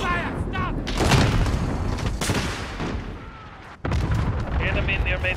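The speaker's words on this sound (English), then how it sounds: "Allied cluster strike incoming" Cluster strike explosions in Call of Duty Modern Warfare Warzone roll in as heavy, overlapping rumbling booms with a brief gap before another blast, mixed with game effects and voices.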